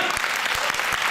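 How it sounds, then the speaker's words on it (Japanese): Dense, sustained applause from a large audience at a dance contest awards ceremony, steady clapping filling the whole stretch. "彼女たちに大きな拍手を送ってください。"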